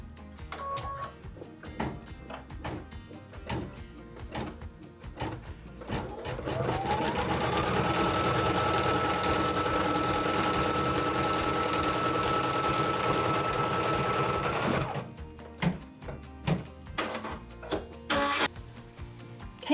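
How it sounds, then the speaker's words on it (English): An embroidery machine stitches a binding tack-down line on a barn quilt trivet, a steady whirring run of rapid needle strokes lasting several seconds, with fainter clicks and handling noises before and after. "we are going to stitch the left binding"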